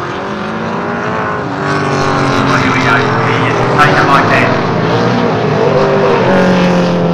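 A Ford XE Falcon touring car engine roars loudly and steadily, its pitch shifting as it accelerates, while a commentator talks excitedly over it.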